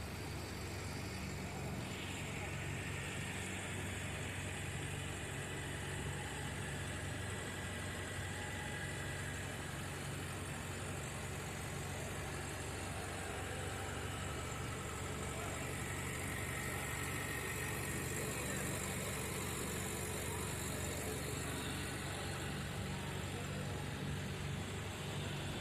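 A boat engine drones steadily during a ride on the Ganges at Varanasi, a continuous low mechanical hum and vibration that stays even and unbroken, with no talking.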